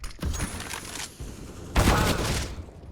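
Rapid bursts of rifle gunfire from the video game CS:GO, played on the Vertigo map: a flurry of close, loud shots in the first second, a pause, then a second heavy burst near the end.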